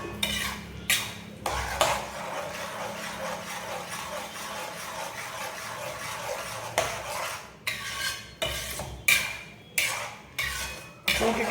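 Milk and sugar being stirred in a pan for milk cake: steady scraping and stirring with a utensil, then a run of sharper rhythmic scrapes toward the end, close and moderately loud with no talk.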